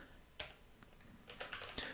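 A few scattered keystrokes on a computer keyboard in a quiet room, a sharp isolated tap followed later by a quicker cluster of clicks, close and fairly faint.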